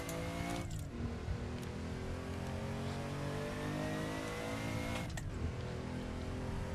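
A Porsche 959 supercar in a racing video game revs hard and loud, with sharp engine notes rising and dropping through quick downshifts, two clear shift breaks standing out over the continuous roar.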